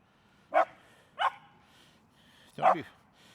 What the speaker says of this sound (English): Don't be barking at people, dog.